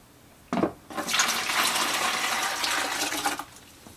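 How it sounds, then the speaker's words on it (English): Cooled chicken brine with herbs pours steadily into a bucket, a loud continuous gushing splash that starts abruptly and runs for about three seconds before tapering off. "our brine is completely cooled now, and I'm going to go ahead and put it in the bucket here."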